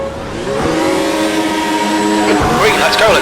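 Race cars launching at the start of a Formula 1 video game race, with loud engine drone building and then a surge of rising revs from the nearby pack, heard under a commentating voice.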